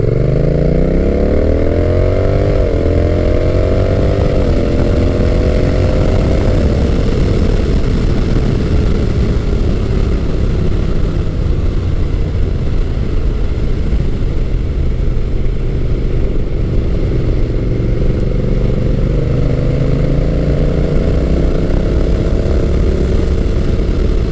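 A Honda Rebel 1100 T DCT motorcycle under way, its engine droning loudly and continuously with pitch rising and falling as the throttle is rolled on and off, wind noise mixed in throughout.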